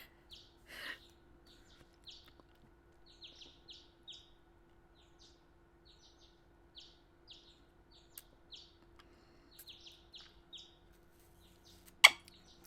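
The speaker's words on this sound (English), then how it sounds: "Enjoy the birds!" Birds chirp and tweet in short, bright bursts scattered across a quiet background, with one sharper, louder call near the end and a faint steady hum underneath.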